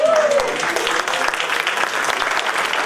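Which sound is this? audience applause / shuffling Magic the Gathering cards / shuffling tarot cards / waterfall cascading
audience applause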